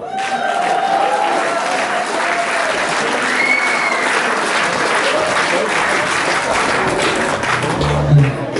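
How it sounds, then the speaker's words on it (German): An audience applauds at the Busswil Country Festival, with dense sustained clapping from a large crowd filling the whole stretch at a loud, even level and a brief thump near the end. "Ein grosser Applaus für den Mitorganisator."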